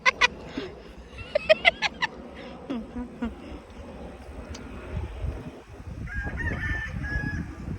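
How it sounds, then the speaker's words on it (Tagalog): A rooster crows repeatedly on a farm in the American countryside, loud and fairly near. A few bursts of calls come in quick succession early on, then give way to wind noise and distant farmyard sounds. "Wala, marami kang manok"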